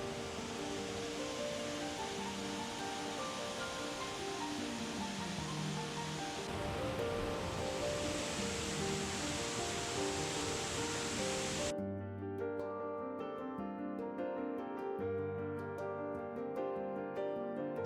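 Steady rushing water of a waterfall flowing into a shallow sandy stream near Doi Inthanon, Thailand, hisses under a background music track, then cuts off abruptly, leaving only the music playing.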